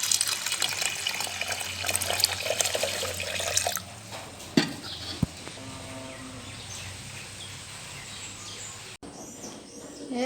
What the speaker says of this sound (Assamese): পানীখিনি আগতে দি লওঁ